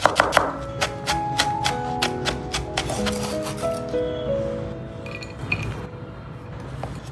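Knife mincing crushed garlic cloves on a cutting board for stir-fried tofu: a burst of rapid, sharp chopping taps at the start, then sparser knocks over soft background music.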